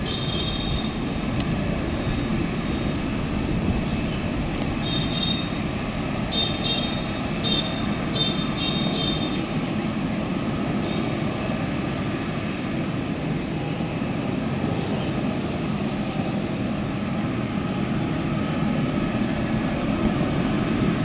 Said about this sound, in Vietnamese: Chiếc C-17 đã vào tới điểm dừng cho lên cất cánh.